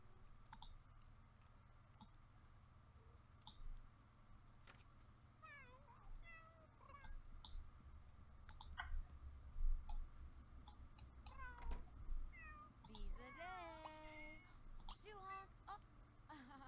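Video game cats meow repeatedly with rising and falling pitched cries, mixed with sharp mouse clicks and a soft background hum; a voice talks at times.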